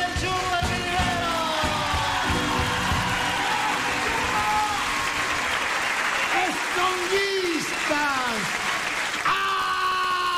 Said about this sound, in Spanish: Un aplauso para el Chumba Rivero.